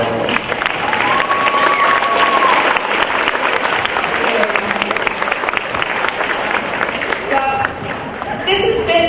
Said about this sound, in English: I think she deserves a round of applause for being so.